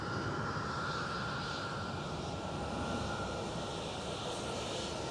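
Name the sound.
Vueling airliner in Barcelona livery, jet engines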